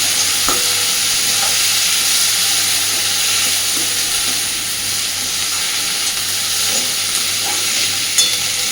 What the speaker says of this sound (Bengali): সুন্দর করে এগুলোকে একটু ভেজে নেবো